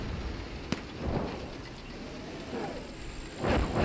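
Distant gunfire crackles in a tank battle video game: one sharp crack, then a few muffled bursts over a low rumbling background.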